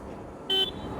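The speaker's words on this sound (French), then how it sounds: "Comment ça klaxonne ça?" A Harley-Davidson LiveWire electric motorcycle sounds one short, bright horn beep, close and loud against a quiet background.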